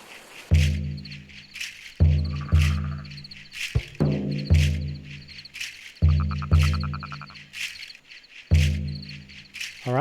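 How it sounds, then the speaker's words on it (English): Night ambience of frogs croaking in short rattling bursts and crickets chirping steadily, set against a repeating pattern of deep booming drum hits, all loud and close. "And frogs and crickets."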